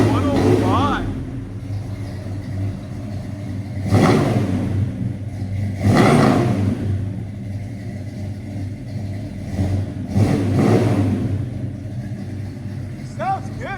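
Loud and close, a 1970 Buick Skylark V8 with headers and a Flowmaster 40 Series exhaust rumbles at idle and surges through several revs, with people talking in between.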